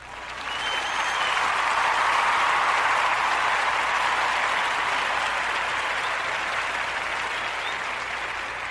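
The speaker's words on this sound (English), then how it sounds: "Let's give them a round of applause" Sustained audience applause for award-winning math teachers, a dense even wash of many hands clapping that swells in after a moment and carries steadily to the end without talk.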